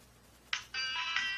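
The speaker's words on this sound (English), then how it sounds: "Ringtone." A bright electronic phone ringtone starts abruptly and keeps ringing in a steady, warbling tone, loud and close, with no voices.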